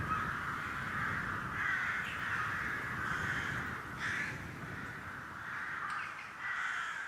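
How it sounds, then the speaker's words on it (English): Crows caw continuously in the Skyrim video game, a dense, loud chorus of harsh repeated calls from many birds overlapping with no break. "Bro, these birds are going crazy."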